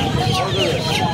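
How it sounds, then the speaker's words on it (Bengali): Australian chickens cluck at a busy wholesale hen market in Uluberia, Howrah, short bird calls rising over the crowd's murmur and nearby talking. "এগুলো অস্ট্রেলিয়ান মুরগি আছে এগুলো।"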